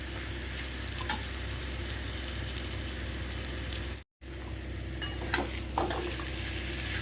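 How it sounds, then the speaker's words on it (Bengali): A grated coconut mixture sizzles quietly in a pan as it is sautéed, with occasional light scraping and stirring clicks; a brief dropout interrupts the steady frying. "এটা কষাতে থাকি একটু অল্প আছে, 3 থেকে 4 মিনিট একটু কষাতে হবে"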